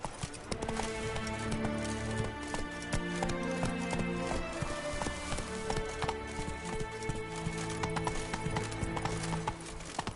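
The horse Roach galloping in The Witcher 3, rhythmic hoof clip-clop running steadily with a whinny, game music layered underneath and no speech.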